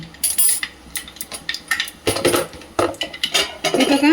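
Mustard seeds and cumin go into hot oil in a pot, producing clattering spoon-on-metal taps and light crackling over a few seconds, with a brief spoken question near the start.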